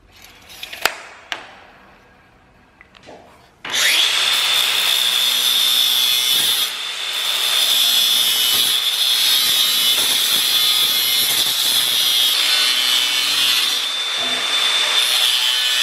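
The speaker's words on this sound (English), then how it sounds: "These dang DeWalt grinders, side grinders, are amazing." DeWalt side grinder cutting sheet metal of unknown gauge for automotive artwork: a few faint knocks and clicks, then a loud, steady high-pitched grinding whine that starts abruptly and runs continuously close by for about twelve seconds.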